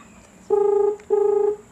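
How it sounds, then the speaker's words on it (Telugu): Phone ringback tone sounding through a Dell Inspiron 15 2021 laptop speaker during an outgoing call, two steady electronic tone bursts about half a second long, clear and close. "ఇప్పుడు చూసారంటే మా అమ్మగారికి కాల్ చేస్తాను."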